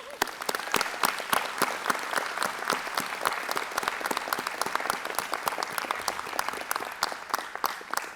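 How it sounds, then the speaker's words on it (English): Sustained audience applause at a university spring convocation ceremony, a steady dense patter of many hands clapping in a large hall, moderately distant and unbroken for the whole stretch with no talk over it. "So let's take a moment to celebrate with applause your supporters."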